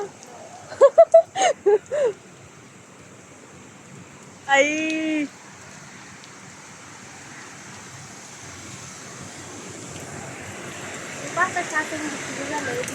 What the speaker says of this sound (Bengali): বৃষ্টি বেশি শুরু হয়েছে